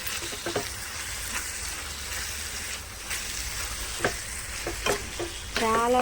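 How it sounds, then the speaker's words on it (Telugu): Cucumber and tomato curry stirred in a pan on low heat, a steady soft sizzle with scattered scraping clicks of the spoon, growing a little busier near the end. "ఒకసారి కలిదిప్పుదామండి."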